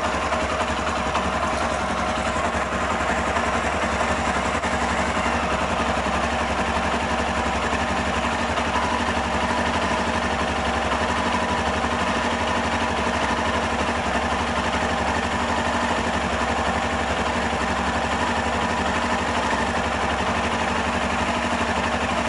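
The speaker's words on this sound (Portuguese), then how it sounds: "Vou dar a partida na motocicleta." A Honda CB 300R motorcycle engine idles in a steady, even drone for the whole stretch, close and loud, with no talk over it.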